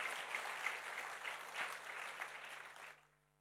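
A church congregation bursts into lively applause at a sermon, a dense wash of clapping that swells briefly and then fades out near the end.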